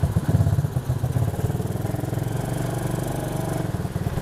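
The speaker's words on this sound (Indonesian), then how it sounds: "Untuk top speed ATV diesel 125 cc ini." A 125 cc diesel ATV engine runs steadily close by, a loud, continuous low-pitched chugging drone with a rough, even pulse and no talk over it.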